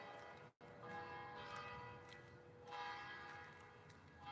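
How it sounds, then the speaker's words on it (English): A church bell rings out at a distance, its sustained tones hanging over a steady outdoor background with no one speaking. "There's a nice bell."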